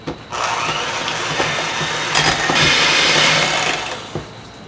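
An electric mixer whirs loudly and steadily while beating softened cream cheese into a keto frosting for cinnamon rolls, running for several seconds with small bumps in pitch before cutting off.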